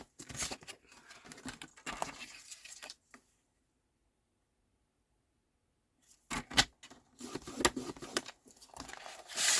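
Card stock is cut in half during a card-making session, with scissors snipping and paper rustling in bursts at the start and end, separated by a few seconds of near silence.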